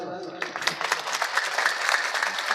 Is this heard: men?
yes